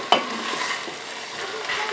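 Garlic sizzling in a pot for a sausage and squash stew, with steady close frying crackle and a spoon scraping and stirring through it.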